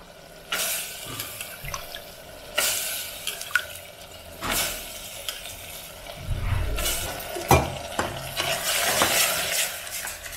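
Field beans and tomato frying in a pan while being stirred, with scraping strokes of the spoon recurring every couple of seconds over a continuous sizzle, close and fairly loud with no talking.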